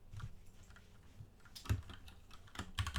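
Computer keyboard keys clatter in a steady burst of close, busy typing while code is entered, with a few louder strokes toward the end.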